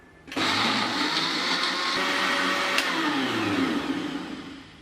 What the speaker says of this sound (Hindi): इसको आपने अच्छे से ब्लेंड करना है।